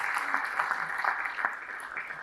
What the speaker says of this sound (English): We can give Chris a hand of applause